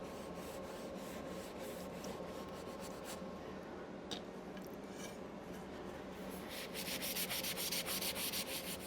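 Crackled milk paint finish being rubbed back by hand, a steady dry abrasive rubbing close by that continues without pause and grows a little louder and brighter toward the end.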